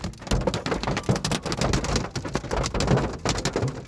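Hailstones pelt a car during a hailstorm in a dense, loud, continuous clatter of sharp impacts on the body and glass, with no voices.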